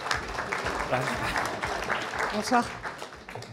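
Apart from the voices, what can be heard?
audience applause at an awards ceremony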